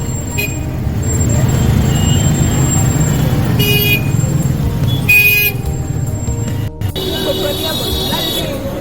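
Street traffic heard from a moving toto e-rickshaw in Varanasi, with a steady engine-and-road rumble, scattered horn toots and passing vehicles throughout, and voices and crowd noise mixed in.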